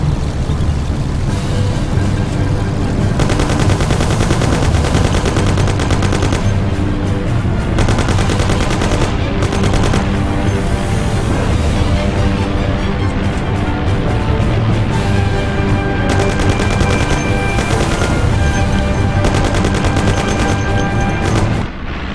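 Dense, nonstop gunfire in the Mafia video game, with Thompson submachine gun bursts and other weapons firing in a loud, continuous barrage that never lets up, near and overwhelming.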